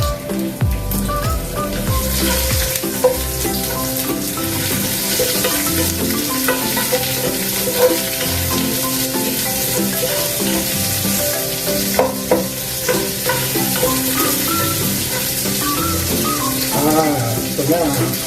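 Chopped onions stirred and fried in a home kitchen pan, a steady loud sizzle running throughout with scraping and clinking of the utensil against the pan, no talking.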